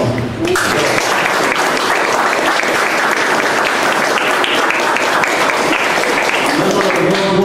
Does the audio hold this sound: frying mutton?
no